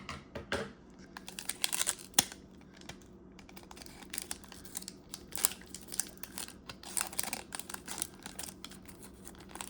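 Scissors snipping open the foil wrapper of a Hobbit collector booster card pack, with crinkling plastic and several sharp cuts and rustles close to the mic.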